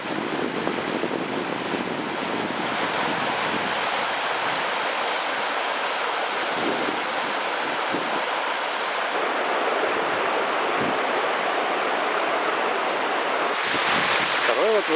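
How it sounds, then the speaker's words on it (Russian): Water rushing over the first small rapid of the Gridina River in the northern wilderness, a steady broadband roar close by, continuous throughout with slight wind. "Вот и первый порог реки Гридина."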